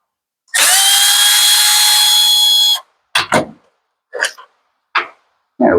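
A power tool, likely a drill, whirs steadily for about two seconds while a carburetor is removed from a Homelite leaf blower, followed by several short clicks and clanks as parts are pulled free.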